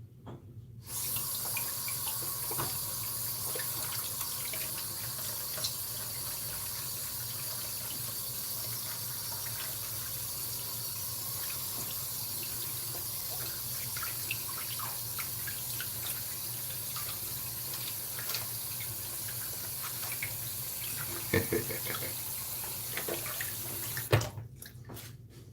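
A kitchen or bathroom tap runs steadily for rinsing, a constant close hiss of water splashing into a sink that carries on almost unbroken, with a few faint knocks near the end as the flow stops.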